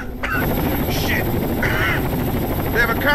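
Combat helicopter in the video game Rainbow Six Vegas 2, a loud, steady rotor drone filling the whole clip with brief game voices and radio chatter over it.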